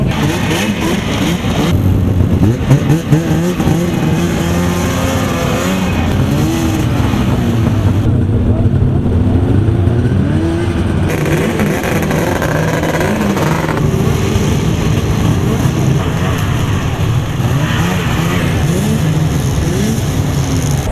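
Snowmobile engines rev and drone loudly throughout at a cross-country snowmobile race, the pitch rising and falling continuously as the sleds idle and accelerate close by.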